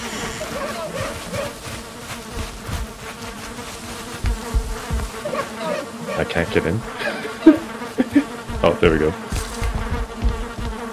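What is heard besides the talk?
bees buzzing near a beehive, from the video game Valheim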